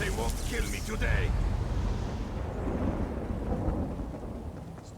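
Thunderstorm in a video game set in the Khenarthi's Roost area: deep, rolling thunder and steady rain fill a loud, continuous wash of rumble for the whole stretch.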